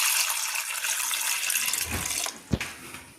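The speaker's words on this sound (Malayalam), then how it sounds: "ഇനി നമുക്ക് ആവശ്യത്തിനുള്ള വെള്ളം ഒഴിച്ചു കൊടുക്കാം." Water poured into a pressure cooker holding corn, a close steady splashing stream that ends abruptly with a couple of clunks.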